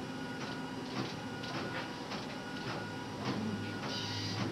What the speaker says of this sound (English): I print out one jacket and send 5 labels out to the other printer